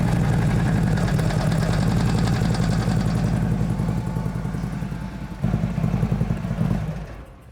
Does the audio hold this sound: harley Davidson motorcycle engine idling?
yes